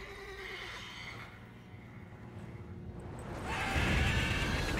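In The Witcher 3 video game, a mare whinnies in a long, shaky, descending neigh, followed by quieter ambience and then louder rustling and hoof-like movement near the end.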